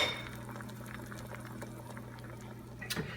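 Two eggs cook on low heat in a carbon steel pan, giving a quiet, even bubbling sizzle that holds throughout, with a faint clink near the end.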